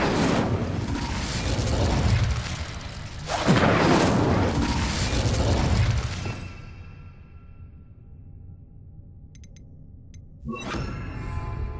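Incendio fire spell cast in the video game Hogwarts Legacy, two heavy whooshing bursts of flame that swell and fade, followed by a quieter lull and a fresh rush at the end.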